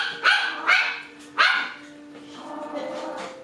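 Two small black puppies romp in a pen, giving three sharp yips and barks in quick succession followed by softer whimpering and playful growls, close by.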